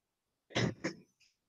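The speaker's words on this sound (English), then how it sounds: "I'm suffering from cold. That's why I'm coughing." A man with a cold clears his throat and coughs twice in quick succession, close and fairly loud, followed by a short faint rasp, with no talking.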